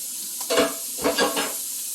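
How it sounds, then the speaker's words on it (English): Small halved shrimp sizzling in a hot grill pan, a steady frying hiss with a few brief swells as they are stirred or turned, with no talk. "So I got them in the grill, grilling away."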